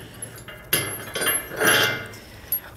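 Metal clinks and taps while a bolt is removed during an EcoHitch Stealth trailer hitch receiver install, a few close, sharp, scattered knocks with soft scraping between.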